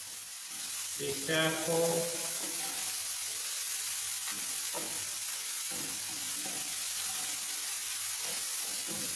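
Ginger and garlic paste sizzles and fries steadily in a hot pan for a vegan thali, with stirring throughout and a brief voice speaking early on.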